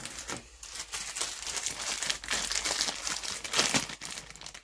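Crinkly plastic packaging around RC parts being unwrapped by hand, close-up bursts of crumpling and tearing that come in irregular, scratchy waves with no talking.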